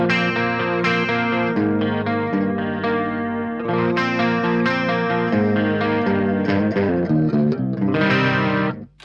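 An electric guitar plays a clean tone through an ENGL Ravager impulse response with lowered lows and a little added treble, a loud, ringing run of chords and picked notes with chorus-like shimmer throughout.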